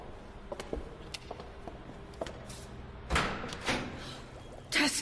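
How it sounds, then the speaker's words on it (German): A door opens in a German radio play: a run of light clicks and taps, then a louder thump and a rattling slide, with another knock near the end over quiet background. "Da ist eine Tür."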